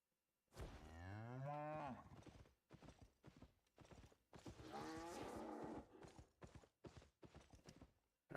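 A farm cow in the video game Albion Online gives one long moo, followed by clip-clopping hooves and other scattered livestock noises, all quiet and without talk.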